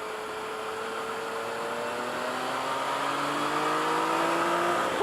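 A car engine revs hard past 5,000 RPM on a mountain road lap around Mt. Fuji's Fuji Skyline. A loud, continuous engine tone climbs steadily through one long pull, then eases at the very end, with no talk.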